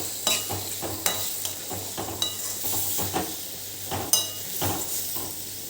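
Four chopped medium tomatoes being stirred in a hot pan: a rhythmic series of spatula strokes and scrapes, roughly one per second, over a continuous close sizzle.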